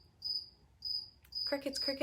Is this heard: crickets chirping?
yes